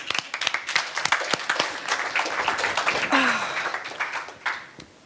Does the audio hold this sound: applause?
yes